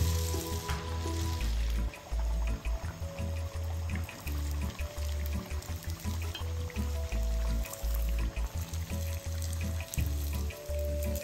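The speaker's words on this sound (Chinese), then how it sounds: "接着再置回热油中，油炸至脱模，然后继续以中低火油炸至金黄色即可。" Peanut crisps, batter with peanuts and small anchovies, deep-fry in hot oil over medium-low heat, giving a continuous bubbling sizzle with irregular low thumps throughout, fairly close and without talk.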